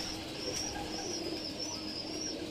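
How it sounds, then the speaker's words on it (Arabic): Pakistani pigeons coo softly in a loft, a steady low murmur of calls with faint chirps over constant background hiss, no talking. "وهذا الحمام الباكستاني قدامكم"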